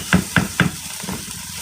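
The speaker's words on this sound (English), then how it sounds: "we're getting the fry going with the fried cabbage over here" Steady sizzle of cabbage frying in a hot pan, with three quick scraping stirs close together at the start, then softer frying.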